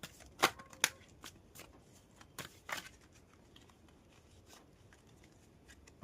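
Tarot cards are handled and drawn from a deck, a few crisp snapping flicks early on followed by quieter rustling and sliding, close and low in volume.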